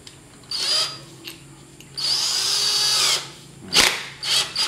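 A 20V NRT Pro DC 340 cordless drill set to screw mode gives several short whirring bursts and one longer spin, loud and close, with brief clicks of the chuck between runs.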